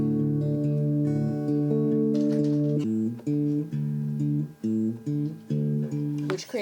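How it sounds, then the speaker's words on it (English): Acoustic guitar fingerpicks in a Travis style, the thumb walking a low bass line under repeating upper notes, close and fairly loud, broken by short gaps near the end. "it is characterized by the thumb playing a bass line on the bottom strings."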